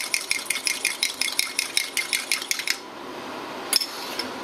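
Two eggs whisked in a cup with a utensil, a rapid, regular run of bright clinking taps against the cup's side that stops abruptly, followed by one last clink after a short pause.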